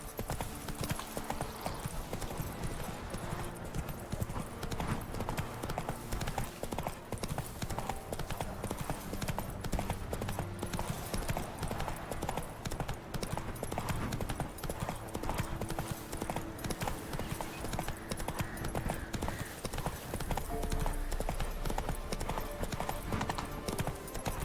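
Roach, a horse from The Witcher 3, clip-clops steadily and evenly along, its hoofbeats moderately close against quiet game ambience.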